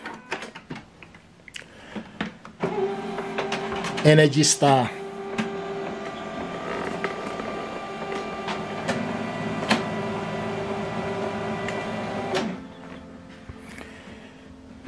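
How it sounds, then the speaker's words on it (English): An HP Color LaserJet Pro MFP M283fdw laser printer powers on with clicks and a whirring mechanical run that hums steadily for several seconds, while a person speaks briefly nearby. "So switch on this printer from right here."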